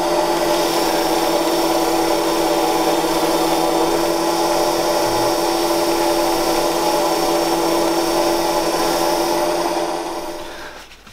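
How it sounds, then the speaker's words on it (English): A wood lathe spins at 1000 rpm while a turned pen is burnished with wood shavings, giving a loud steady motor whine and faint rubbing that runs unbroken before winding down at the end. "we're going to burnish that with some of the wood shavings from the wood from when we were turning"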